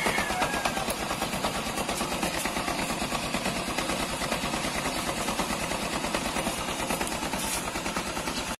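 A Honda Supremo 150 motorcycle engine runs with a loud, continuous rapid rattling clatter, a harsh mechanical knock sustained evenly throughout at close range.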